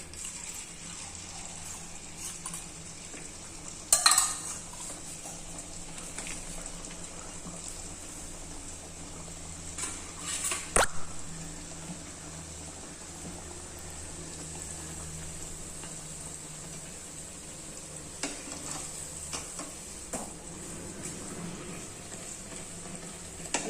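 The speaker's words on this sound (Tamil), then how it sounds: "இப்போ நம்ம அடுத்த பொரியை எண்ணெயில் போட்டுக்கலாம்" Puri made from idli rice dough deep-fries in hot oil, giving a steady low hiss of bubbling with a few brief clatters and scrapes, quiet and continuous throughout.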